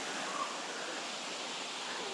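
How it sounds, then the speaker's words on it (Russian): Small waterfall in a Canadian forest reserve, heard as a steady, continuous broadband rush of falling water, close and even throughout with no voices. "Да, маленький водопадик."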